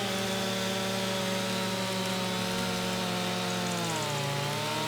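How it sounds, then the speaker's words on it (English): A Farming Simulator 25 chainsaw cuts through a tree, a loud, steady close engine whine that stays level for several seconds, then dips and shifts pitch near the end, with no voices. "I will be very, very afraid that my chainsaw might be overheating like there's no tomorrow"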